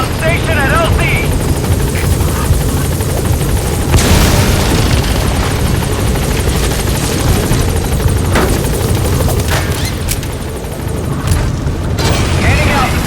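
The Pequod helicopter in Metal Gear Solid V: The Phantom Pain arrives at a landing zone with a loud, continuous rotor roar, punctuated by heavy booms and thuds.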